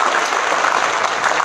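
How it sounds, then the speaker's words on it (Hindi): Crowd at a political party workers' gathering in Rajasthan applauds loudly, a thick, continuous wash of many hands clapping at full strength from start to finish. "जोरदार ताली उस संगठन के लिए"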